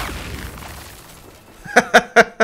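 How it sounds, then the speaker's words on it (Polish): Fireworks bursting in the video game Cyberpunk 2077: four sharp, loud pops in quick succession near the end, after a quieter stretch of low background rumble. "Fajerwerki, yeah!"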